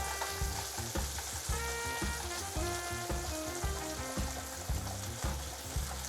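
Pancetta, a cured bacon, frying steadily in a stovetop pan for pasta carbonara, with a dense continuous sizzle and crackle close by while music plays underneath.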